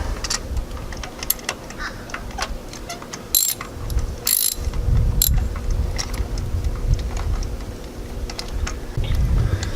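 Clicking socket ratchet tightening a spark plug on a 2010 Chevy Malibu in short bursts, close by, over a steady background hum, with a few sharper metallic clacks.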